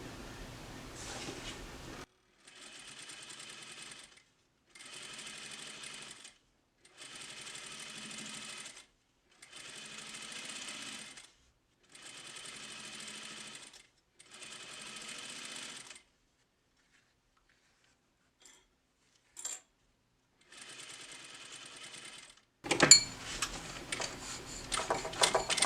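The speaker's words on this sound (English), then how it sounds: "now I'm just going to sew the open edge and then this edge here" A sewing machine stitches around the open edge of a handmade key fob with a swivel clasp, running in about seven steady bursts with short pauses, followed by a loud clatter of handling at the end.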